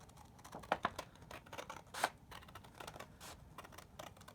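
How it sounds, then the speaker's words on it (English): Scissors cutting along a line through folded paper for a small sketchbook, a quiet series of crisp snips and rustles at close range with no talk. "We're going to cut out a T. We're going to cut right along here."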